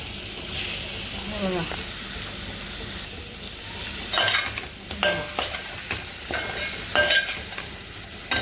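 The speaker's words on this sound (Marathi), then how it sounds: "आता आपण टाकूया पाकट आणि मस्त असा घाटून घेऊया" Pieces of pakat fish stirred in a hot pan for a mutton-style fish curry, a steady close sizzle broken by several scraping stirs of the spatula toward the end.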